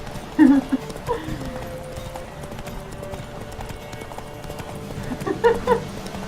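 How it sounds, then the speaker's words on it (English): Hoofbeats of a horse walking in a video game, a few clopping steps near the start and again toward the end over a low game soundscape, with no talk. "Iba el caballo caminando sobre dos patas."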